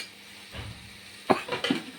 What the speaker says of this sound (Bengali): এটাকে আবার একটু নাড়িয়ে দেবো, এটাকে একটু নাড়িয়ে দেবো।